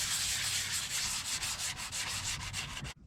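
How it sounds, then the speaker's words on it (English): Sanding old sealant on a sailboat, a close, steady rasping rub in quick back-and-forth strokes that continues for a few seconds and then stops abruptly. "I've been sanding old sealant."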